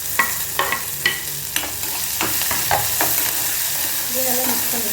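Onions frying in a pan for a banana flower stir-fry, stirred with a series of sharp scraping clinks over a continuous soft sizzle, with no talking.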